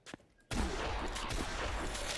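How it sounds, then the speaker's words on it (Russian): Gunfire erupts in the video game Zompiercer, an abrupt loud burst that stays dense and sustained after a quiet start, with no voices over it. "Два выстрела."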